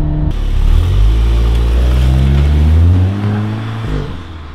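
A front-wheel-drive Seat Leon Cupra launches and accelerates, its engine rumbling loudly up through the revs in a close, sustained pull before easing off near the end.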